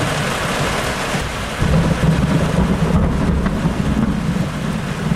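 Low rolling thunder from a Florida summer thunderstorm rumbles steadily over continuous heavy rain, swelling louder partway through, with no voices.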